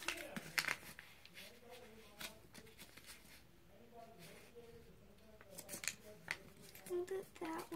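A sheet of paper is creased and folded into a paper airplane, with crisp crinkles and sharp rubbing strokes close up, coming in uneven bursts under faint talking.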